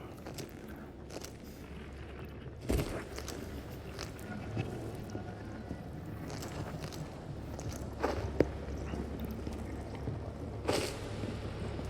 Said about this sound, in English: I hear so many footsteps.